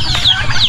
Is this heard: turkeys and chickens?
yes